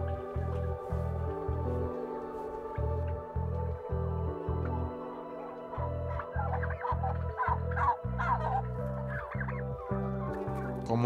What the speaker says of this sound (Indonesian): Dulu, kalkun cuma jadi unggas peliharaan.